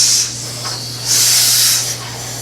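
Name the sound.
voiced imitation of the S sound, a hiss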